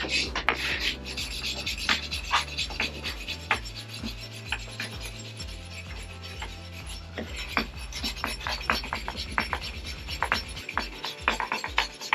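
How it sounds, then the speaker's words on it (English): Steady dry scratching and rasping as a wire brush scrubs the mating face of a brake hub on a Renault Mégane RS during a brake upgrade, repeated strokes close by with sharp clicks and a low hum running underneath. "wire brush, basically, this mating face here, so you get no bits, and all this bit around here as well"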